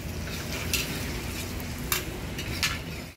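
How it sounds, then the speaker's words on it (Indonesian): Hong Kong fried rice is cooked in a wok at a Surabaya eatery, with a steady sizzle under occasional sharp metal scrapes and clinks of the spatula, close and continuous. "ini masnya sudah mulai prepare memasak nasi goreng Hongkong pesanan kita guys"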